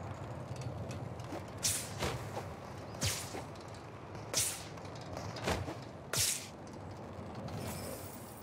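Fortnite umbrella glider in a video game, a series of about six short airy whooshes at roughly one-second intervals over a low rumbling background, moderately loud with no talk.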